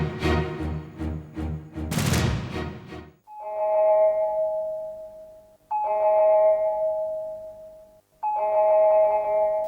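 Doorbell chimes ringing repeatedly and insistently in a home, three sustained tonal rings after a burst of earlier noise, loud and close with no talking.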